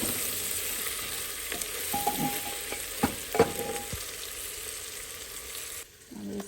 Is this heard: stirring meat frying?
yes